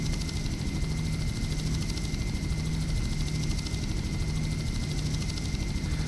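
A helicopter in the Just Cause video game flies with a steady, loud rotor and engine drone that holds unbroken throughout.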